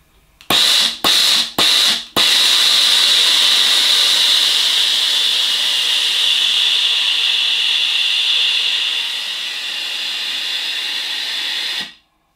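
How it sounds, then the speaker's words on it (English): A 15-year-old Tefal steam generator iron releases its regular, non-boost steam output: a few short sharp bursts, then a loud, continuous close hiss lasting about ten seconds, easing slightly before cutting off abruptly. "That has got a very hefty steam output, and that is the regular steam output."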